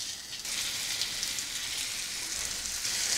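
Semolina-coated pomfret pieces fry in hot oil on a tawa, giving a steady, even sizzle that fills the whole stretch at close range with no talk over it.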